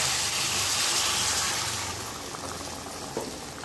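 Liquid is poured into sizzling fried spice mix in a pan for a shrimp curry with jackfruit seeds, giving a steady, close bubbling hiss that eases slightly as it settles.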